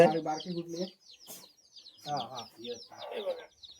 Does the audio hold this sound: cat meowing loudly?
no